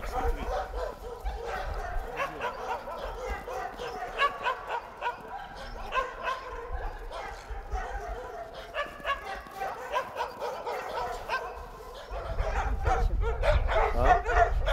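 Dogs bark and yip repeatedly at moderate distance, with some whimpering mixed in, fairly quiet overall while people talk over them.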